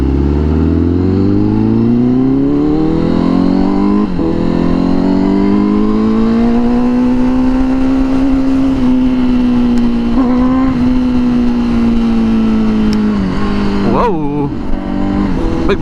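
A Honda Fireblade 1000RR-R SP with an aftermarket exhaust being ridden, its engine note rising through the revs and holding a loud, steady whine, with brief shifts and a quick blip near the end; a rider speaks over it.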